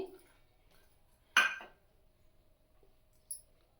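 Chopped onion goes into a salad bowl with one quiet clink and rattle against the bowl, then a faint second tap in an otherwise hushed kitchen.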